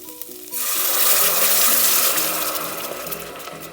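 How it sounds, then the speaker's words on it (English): Coconut milk is poured into a hot pan with a paste for peanut satay sauce, a quiet start suddenly giving way to a loud, close, steady sizzling hiss that slowly eases toward the end. "now I'm going to add my coconut milk."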